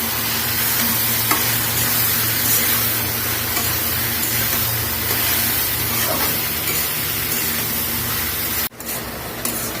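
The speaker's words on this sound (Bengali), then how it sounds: "দেখেন এটাকে আমি সবকিছু দিয়ে একসাথে কষিয়ে কষিয়ে সুন্দর করে নরম করে শুকনো করে" Vegetables stir-frying in a pan for a Bengali home-cooked vegetable dish, giving off a steady, close hiss and sizzle throughout, broken by one brief sharp clatter near the end.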